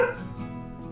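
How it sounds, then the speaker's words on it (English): A single short dog bark rings out close by at the start, then fades into quiet room tone. "My dog is so wound up today. She just will not stop barking."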